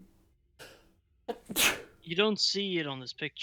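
A single sharp sneeze bursts out close by during a tabletop game session, sandwiched between stretches of ordinary talk.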